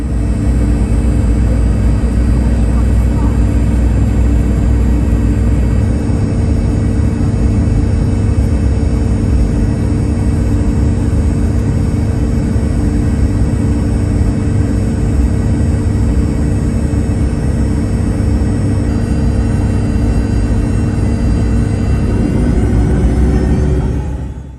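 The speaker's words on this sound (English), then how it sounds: "we did have a bit longer of taxi because we were taxiing around to the back of the airport" A Virgin Australia airliner taxis around the airport toward the runway, a loud, continuous low engine rumble with steady droning hum inside the cabin, unbroken throughout.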